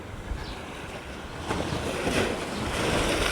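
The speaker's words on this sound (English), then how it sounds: "the tide is really high right now and we're getting waves splashing up" Ocean waves splashing at high tide on a New Zealand beach, a steady rushing surf that grows louder midway, mixed with wind buffeting the microphone and no talk.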